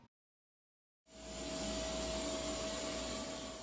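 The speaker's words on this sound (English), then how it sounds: "On carpeting, the robot runs louder as it kicks up the suction for better cleaning" A SwitchBot S10 mopping robot vacuum starts up after a moment of silence and runs as a steady, loud suction whine with a constant tone, close by and alone.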